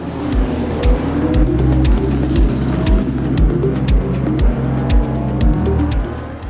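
A racing-sim car engine drones steadily in a video game, with rhythmic low thumps and bright ticking repeating throughout, loud and close with no voices.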